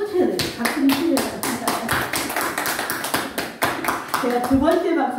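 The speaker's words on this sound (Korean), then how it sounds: "제가 두 번째 박수는 남명우 집사님을 위해서 쳤습니다." A church congregation claps hands in a steady, fast rhythm that keeps going throughout, with voices and singing mixed in under the claps.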